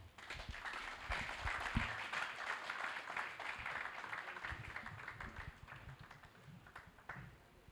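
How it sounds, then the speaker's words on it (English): A colloquium audience applauds in a steady, fairly quiet patter of many hands that trails off toward the end. "Please, a round of applause once more"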